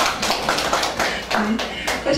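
Applause from the audience at a poetry recitation concert's talk show segment, a close, loud patter of individual hand claps with distinct slaps in an uneven rhythm, mixed with faint voices.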